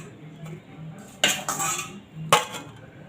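Metal utensils clink and scrape against a plate and pan as fried eggs are lifted out, two sharp clatters standing alone with no talk.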